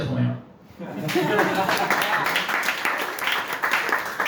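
Applause from a stand-up comedy audience in a bar swells and continues steadily after a brief spoken moment, a dense wash of clapping filling the room.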